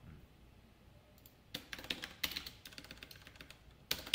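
Computer keyboard typing code, sparse at first, then quick bursts of close, crisp key clicks in a quiet room.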